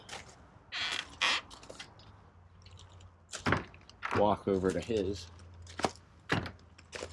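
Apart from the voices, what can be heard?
sticky enclosure door opening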